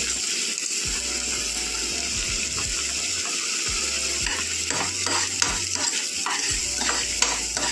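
Paneer masala sizzles and fries steadily in a pan while a spoon stirs and scrapes it in intermittent strokes, close up, with a continuous hiss and no speech.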